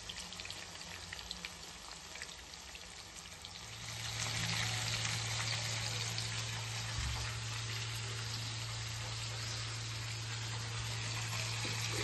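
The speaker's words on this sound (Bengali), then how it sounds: "ফার্স্টে মশলাটা ঝেড়ে নিয়ে তারপর মাংসটা ফ্রাই করতে হবে" Large pieces of meat fry in a small kadai in batches, a faint hissing sizzle that grows louder and steadier partway through as a low hum joins in, no talking.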